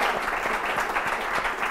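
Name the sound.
audience applause for Sue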